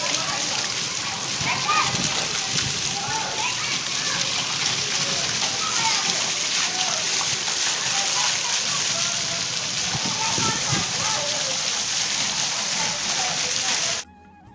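Heavy rain falls in a dense, loud, unbroken roar of splashing water. A voice sits faintly underneath, and the sound cuts off abruptly at the end.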